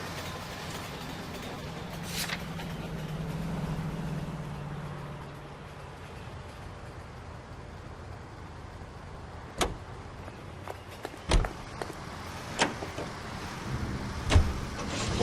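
A car driving in the video game L.A. Noire, a low steady engine drone that fades, followed by scattered sharp clicks and thumps.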